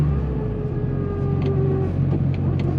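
Car engine hum and road rumble heard from inside while driving, a steady low drone with faint tonal whine, continuous and close, with no talking.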